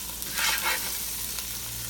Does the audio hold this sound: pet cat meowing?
no